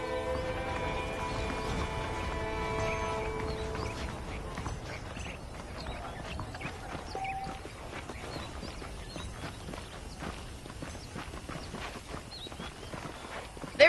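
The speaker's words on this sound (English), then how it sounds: "The horses are saddled up over here." Horse hooves clip-clop at a walking pace in the Red Dead Redemption video game, a soft, steady stream of hoofbeats under faint ambient music and wind, continuing evenly throughout.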